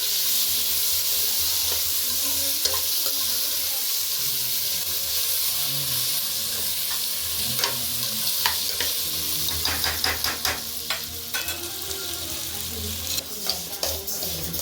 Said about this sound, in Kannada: ಬಟಾಣಿನೂ ಹಾಕಿ ಚೆನ್ನಾಗಿ ಮಿಕ್ಸ್ ಮಾಡಿ